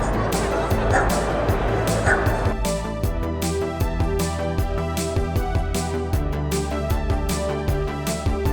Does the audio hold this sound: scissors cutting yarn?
no